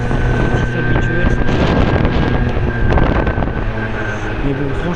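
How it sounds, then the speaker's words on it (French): A Piaggio Typhoon scooter's small two-stroke engine running steadily after a kick start, its droning hum close to the microphone and heavily buffeted by wind noise for the whole stretch. "je fais le kick et puis ça démarre au kick"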